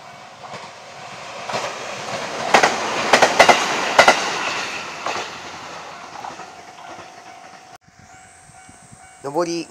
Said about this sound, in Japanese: 上り普通列車が通過です。